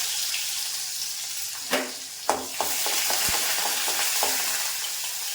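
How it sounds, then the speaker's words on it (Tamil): Mustard seeds and urad dal sizzling in hot oil for tempering, a steady hiss of frying broken by a few sharp pops and crackles, close up with no talk. "எண்ணெய் ஊற்றி கடுகு போட்டு உளுந்தம்பருப்பு போட்டுருக்கிறேன்"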